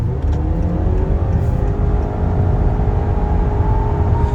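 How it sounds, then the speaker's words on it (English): A 2021 Honda Accord Hybrid with a CVT accelerates at full throttle, its engine holding one steady droning pitch while a rising electric whine climbs underneath, heard from inside the cabin. "The only problem with this car, though, is the CVT. So if I floor it"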